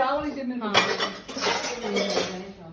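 Tea dishes and cups being gathered up at home, with several close clinks and clatters of crockery and cutlery, a voice briefly talking alongside.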